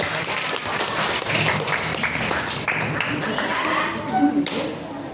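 A classroom of students claps together in a lively, continuous round of applause that stays fairly quiet and even for about five seconds, with a brief voice near the end.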